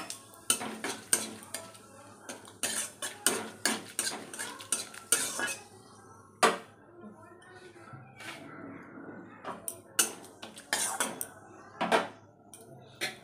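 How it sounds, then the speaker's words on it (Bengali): Bay leaf, dried chilli and whole cumin tempering in hot oil: a quiet sizzle under repeated sharp clinks and scrapes of a metal spoon against the pan, with a voice speaking at times. "তেজপাতা, শুকনো লঙ্কা আর হচ্ছে কি গোটা জিরে ফোড়ন দিয়ে দিলাম"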